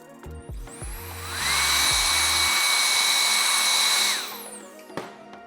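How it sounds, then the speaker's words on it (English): A handheld hair dryer blow-dries foiled blonde and gray hair in a salon, a steady loud whir with a high whine that swells on and runs for several seconds before shutting off. "Blow drying that dimension down."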